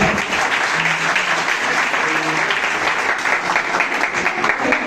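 Church congregation giving loud applause for young people being presented, a dense, even roar of many clapping hands that holds steady throughout with no pauses.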